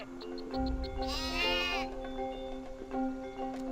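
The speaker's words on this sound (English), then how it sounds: "Honestly, Hugo, they're just sheep." Sheep bleat in the Skylanders: Spyro's Adventure video game, with a loud, wavering bleat in the middle standing out over a steady tonal game backdrop and small clicking sounds.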